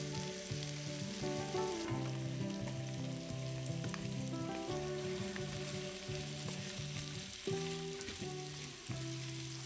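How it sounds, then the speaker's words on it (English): Onions and sliced apples fry quietly in a pan with occasional stirring, a soft continuous sizzle running beneath melodic background music throughout. "We stir everything occasionally and we cook it until the apples are soft."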